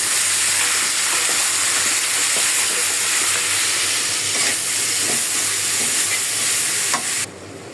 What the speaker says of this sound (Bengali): মশলাটা ভালো করে কষায় তারপর সবজি দিয়ে দিব